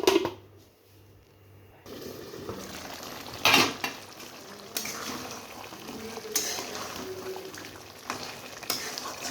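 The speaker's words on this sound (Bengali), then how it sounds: "মাখানো হয়ে গেছে, আমি গ্যাসে চাপিয়ে দিব" Beef cooking in a pot on a gas stove, a low sizzle and bubbling with clinks of utensils and metal pot knocks, one sharp clatter early on, close and moderately loud without speech.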